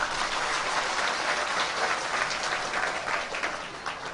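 A large audience at a religious festival gathering claps loudly and steadily, a dense continuous wash of applause filling the hall for several seconds without voices.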